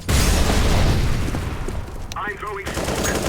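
Incendiary grenade burning in Counter-Strike, a loud continuous crackling roar of flames that holds steady throughout, with a brief dip and a faint tonal sweep near the end.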